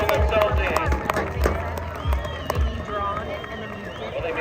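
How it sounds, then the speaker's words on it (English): An outdoor crowd at a crab festival survival suit race in Kodiak, Alaska, cheers and claps for swimmers heading to a raft, with scattered applause, shouts and babble rising and falling while an announcer talks over it. "All right, cheer them on."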